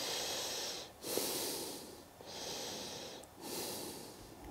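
Slow, deep breaths during a forward-fold yoga stretch with bent knees, close to the microphone, with three long inhale-exhale cycles separated by brief pauses.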